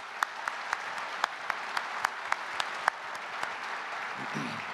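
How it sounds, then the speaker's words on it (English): Applause from the audience for the sponsors at a keynote event, a steady wash of crowd clapping with sharp individual claps standing out near the front, and a voice coming in at the end. "So I'd like to have a round of applause for all of our sponsors."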